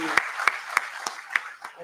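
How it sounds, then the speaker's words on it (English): Slow, sparse applause greets new students at an inaugural ceremony for a business school batch, six or so distinct claps spaced about a third of a second apart, fairly close and clear. "Please welcome them with a huge round of applause."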